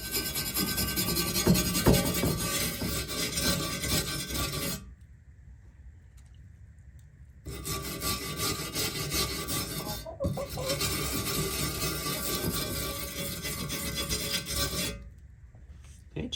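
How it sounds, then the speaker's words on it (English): A scrubber and Dawn dish soap scour a 1924 Model T inspection cover in steady, harsh rasping strokes, close up, broken by two short pauses before the rubbing resumes. "I'm just gonna use my little scrubby thing here"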